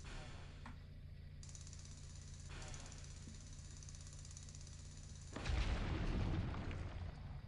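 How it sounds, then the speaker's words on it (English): Deep rumbling landslide in the Lego Rock Raiders video game, a low sustained roar that swells suddenly and loudly partway through over steady mechanical game noise. "A landslide has occurred"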